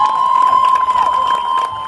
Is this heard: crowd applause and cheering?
yes